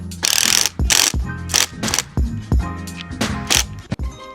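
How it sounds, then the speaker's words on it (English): A black T20 screw being driven into a CT Carbon FXX steering wheel gives loud, close ratcheting bursts, about eight clicking runs separated by short pauses. "I'll just put the screws in whilst I'm holding it together. So these black T20s to go in here."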